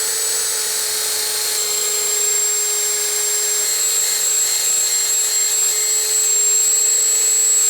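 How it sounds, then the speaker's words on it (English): Wire wheel spinning on a drill, scrubbing the snap ring groove of a steering knuckle during a front wheel bearing job on a 2003-2008 Toyota Matrix; a steady, continuous high-pitched whir with a bright hiss that holds for the whole stretch, no talking. "the easiest way to do that, for me at least, is a wire wheel on a drill"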